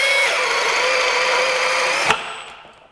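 A Milwaukee M18 compact brushless drill bores a 1-inch hole, its motor whining steady and loud for about two seconds before a sharp knock as the bit breaks through, then winding down.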